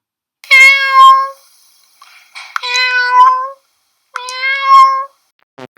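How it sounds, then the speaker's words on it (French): A cat meows three times, loud and near, each a drawn-out, clear cry separated by short silences, with no other sounds around it. "il s'agit tout simplement d'un chat qui miaule"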